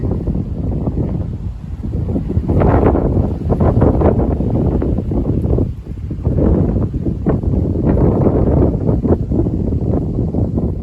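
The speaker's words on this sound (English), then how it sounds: "excuse the noise of the wind" Heavy wind buffets the microphone outdoors at a hilltop viewpoint in Scotland. The rumble is loud and constant, with gusty surges and some faint rustling.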